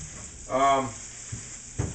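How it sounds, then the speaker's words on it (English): Oil sizzles and crackles in a pan as chicken tenders fry, close and steady, with a few soft clinks of stirring. "these are just sitting here in the pan. They're going a little high. I can just tell by the sound"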